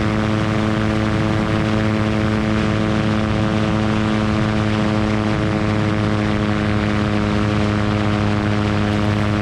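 A GT500 light aircraft fitted with an Australian-made poly propeller cruises at about 80 knots, its engine and prop making a loud, steady droning hum that holds unbroken throughout.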